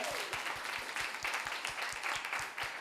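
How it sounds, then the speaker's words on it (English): Audience applause at an awards ceremony, a dense, steady wash of many hands clapping with a faint regular beat running through it, moderately quiet and continuous throughout. "Let's have a little round of applause for each and every one of you."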